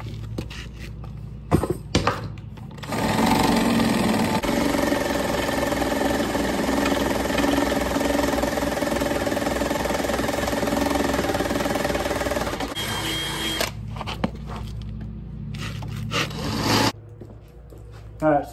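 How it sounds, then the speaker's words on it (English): A drill bores holes into a golf cart frame for a winch mount, a steady grinding whir lasting about ten seconds, close and fairly loud, with clanks and handling noises before and after. "All right, so we got our holes drilled."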